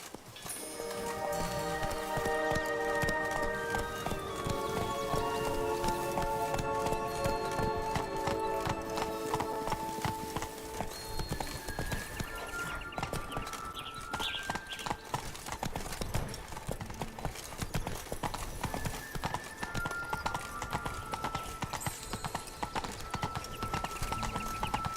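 The horse Roach's hooves clip-clop steadily and rapidly in a video game, continuous hoofbeats under a constant bed of orchestral music with sustained tones throughout.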